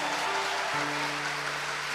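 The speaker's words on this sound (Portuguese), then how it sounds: "uma salva de palmas para Jesus" A church congregation claps for Jesus during a worship service, a dense, steady wash of applause that is loud and continuous throughout, with sustained low musical tones underneath.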